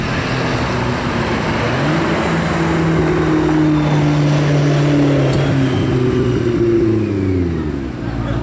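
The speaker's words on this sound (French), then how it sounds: "P1 qui arrive." A McLaren P1 hypercar in Monaco passes with a loud, sustained engine drone whose pitch rises and falls as it arrives and moves along, heard close over busy street ambience, with some talking in the background.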